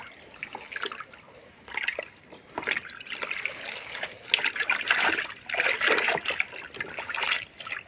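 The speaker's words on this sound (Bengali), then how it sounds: "প্রথমে ভালো করে ধুয়ে নিতে হবে।" Kalmi greens are washed by hand in water, with close splashing, dripping and trickling that rise and fall in irregular surges.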